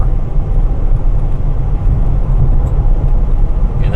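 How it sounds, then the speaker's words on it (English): A storm chasing car driving on the road gives a steady low engine and tyre rumble with constant road noise, loud and continuous throughout. "when we're on the road, you're going to hear the car"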